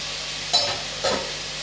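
Chopped tomatoes sautéing in a pan for chana masala, a steady soft sizzle with two brief louder stirring scrapes, close and without talk.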